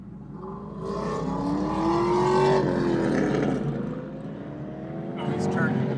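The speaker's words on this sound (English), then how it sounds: "Thank you for watching my loud, murdered out 700 horsepower supercharged C6 Corvette flyby." Loud, straight-piped, supercharged 700 hp C6 Corvette flying past, its engine note rising and falling with a whining sweep, heard alongside excited voices talking over it.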